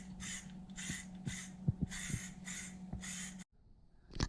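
Spray can of Hyper Dip paint being applied to car rims, six rhythmic hissing bursts of roughly half a second each, close and loud, followed by a brief pause and a final short spray.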